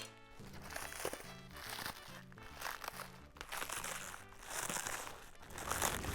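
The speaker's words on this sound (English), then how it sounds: "Sweet cabbage, nice and crunchy." Fresh sweet cabbage crunching and crinkling as it is handled for sauerkraut, crisp crackly bursts repeating close up against a background of music.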